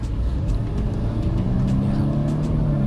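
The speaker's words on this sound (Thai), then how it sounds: "เสียงเครื่องใช้ได้เลย เครื่องนิ่งอยู่เลยนะครับ" Mercedes-Benz C180 Kompressor W203 from 2004 driven at full throttle on an open road, its engine a steady low drone under road and wind noise heard from inside the cabin.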